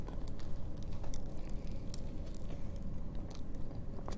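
Soft crunching and chewing close to the mouth as someone bites into a Subway BBQ rib sandwich, quiet crackly bites and mastication over several seconds with no talking.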